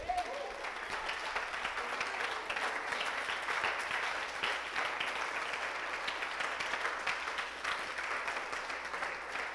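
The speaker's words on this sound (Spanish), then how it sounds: "Denle un fuerte aplauso al Dios por esto" A congregation claps loudly and steadily through a church sermon, a thick, even wash of applause that holds at the same level from start to finish.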